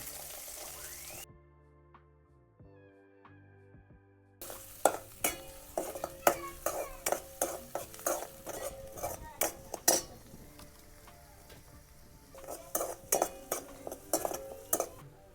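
Onion going into a hot pan of crackling mustard seeds and roasted cumin, with sharp utensil scrapes and stirring clatter over a steady sizzle, after a brief quiet start.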